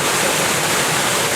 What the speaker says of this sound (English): Bit of the falls up there, splashing over the side of that rock there